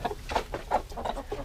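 Chickens cluck in a steady run of short, soft calls while feeding together at breakfast, close by with a low background murmur and no talk.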